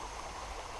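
Creek water flows steadily through a deep, slow-moving stretch where crayfish traps are set, a continuous broadband rush and gurgle with no pauses, heard close and fairly loud.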